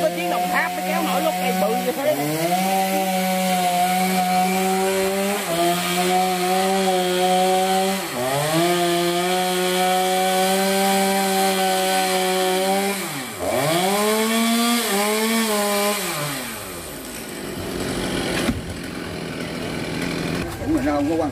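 A saw grinds through a tree trunk with a steady droning pitch that dips and recovers as it bites into the cut, running almost continuously before trailing off near the end.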